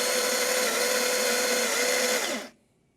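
A stepped espresso grinder grinds coffee into a portafilter basket with a loud, steady whirring drone that runs for over two seconds and then cuts off abruptly, leaving near silence.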